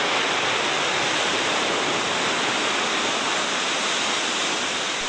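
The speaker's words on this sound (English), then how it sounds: "So not only got the sound of the crashing water" Water crashes onto the deck of a sailing ship, heard close in from the bowsprit as a loud, continuous wash of roaring spray and surging water, with no talk.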